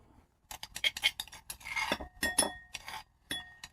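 Chopped garlic and parsley scraped off a cutting board into a small bowl, giving a run of quick, close clinks and light scraping taps on the bowl over a few seconds.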